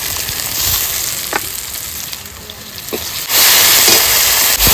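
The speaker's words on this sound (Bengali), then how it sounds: "মশলাটা কষিয়ে নিয়েছি" Ginger-garlic paste, cumin paste, green and dried chili and ground coriander sizzle in hot oil, a loud continuous frying hiss with occasional stirring scrapes and a sharp surge of sizzle near the end.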